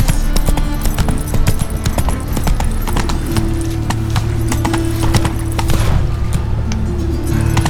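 Roach, the horse in the video game The Witcher 3, galloping with loud, rapid hoofbeats that run steadily throughout, close and continuous, with a low rumble beneath and no talk.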